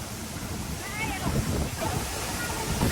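The Jalbire waterfall pours with a steady, broadband rush of falling water close by, and a person talks over it.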